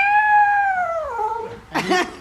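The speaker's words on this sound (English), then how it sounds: "You hear that cat meowing?" A cat gives a long, drawn-out meow that slides downward in pitch, followed by a short, sharper second meow.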